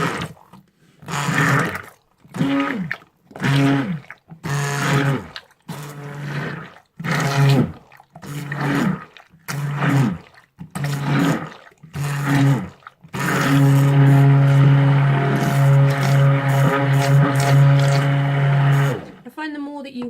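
A healing salve mixture is blended or whisked in short loud roaring bursts, about ten of them, then in one long continuous run.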